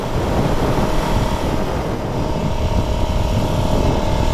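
A 2001 Ducati Supersport motorcycle out riding on the road, its engine a steady, continuous low drone mixed with heavy wind rush, with no talk.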